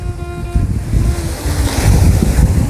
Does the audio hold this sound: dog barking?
no